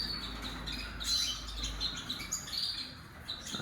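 Pet birds chirp in an indoor bird room, with many quick high tweets overlapping at moderate distance against a quiet background hum.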